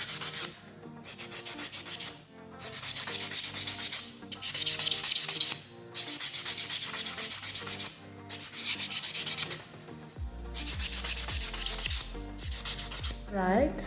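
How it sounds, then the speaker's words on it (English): Fingernails are buffed with a buffing block in brisk back-and-forth strokes, giving a close, loud, rasping scrub in rhythmic bursts with brief gaps between passes. "I'm gonna go on with this buffing block and buff off my nails."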